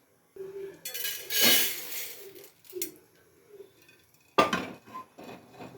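Dry-roasted coriander seeds are tipped from a pan into a bowl, giving a few separate metallic clanks and rattling scrapes with quiet gaps between them, close by and without speech.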